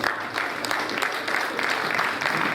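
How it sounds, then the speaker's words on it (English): Steady, dense clapping from a large audience for the chairman at an APC political gathering, a loud, continuous wash of hands that never breaks, with no talking over it. "A bigger round of applause for the chairman"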